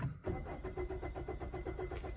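A Suzuki SX4 S-Cross with keyless entry and an anti-theft lock fails to start: the starter cranks in a steady rapid churning rhythm, close and moderately loud, without the engine catching.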